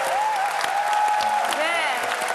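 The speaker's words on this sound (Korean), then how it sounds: "박수 한번 다시 주세요." Studio audience applause fills the room with a steady, dense patter of clapping, close and continuous, while a voice speaks over it.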